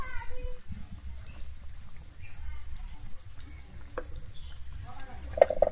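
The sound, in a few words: stirring egg korma in pan after adding garam masala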